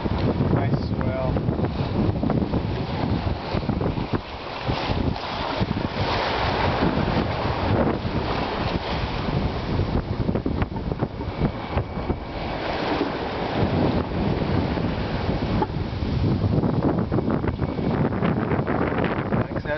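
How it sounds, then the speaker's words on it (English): Steady wind buffets the microphone and ocean swell washes past a sailboat on open water in the trade winds, a constant loud roar for the whole stretch, with a voice faintly underneath. "Nice open ocean sailing, steady wind, nice swell."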